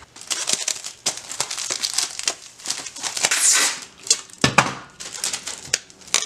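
Packing material crinkles and rustles with sharp taping bursts while a front differential is wrapped up, irregular close handling noises from start to finish.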